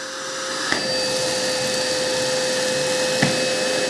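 A cordless vacuum cleaner runs steadily at full power, a constant close whine and rush of air with a couple of faint clicks.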